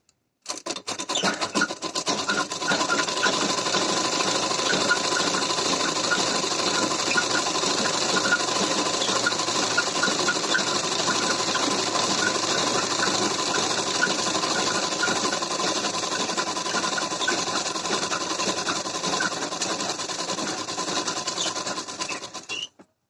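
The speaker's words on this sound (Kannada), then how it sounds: "ಸುಕ್ಕು ಬರದ ರೀತಿ ಇದನ್ನು ಸಹಿತ ನಾನು ಸ್ಟಿಚಿಂಗ್ ಅನ್ನ ಮಾಡ್ಕೊಳ್ತೀನಿ" A sewing machine runs steadily for over twenty seconds, stitching blouse fabric with a continuous, close, even whirring hum and no talk.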